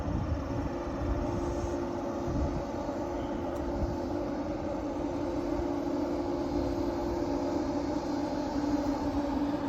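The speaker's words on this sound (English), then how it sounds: "The train is just right there." Steady, continuous low rumble and drone of an eastbound Norfolk Southern intermodal freight train at a road crossing, heard from a distance at moderate level without change for the whole span.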